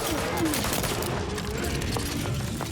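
Rapid bursts of gunfire from a gun in The Outer Worlds 2 rattle in quick succession amid game sounds, with some voice mixed in.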